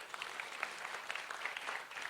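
Church congregation giving loud applause during a sermon, a continuous, even burst of many hands clapping.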